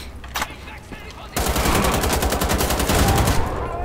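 Explosions and heavy blasts in the first-person shooter Wolfenstein: The Old Blood, a loud sustained barrage of rapid booms and crackling bursts after a brief quieter stretch with faint talk underneath.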